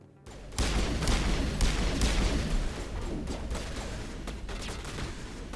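Gunfire in the game Mass Effect, a dense fusillade of rapid, loud shots and booms layered over one another, easing slightly after a few seconds but continuing throughout.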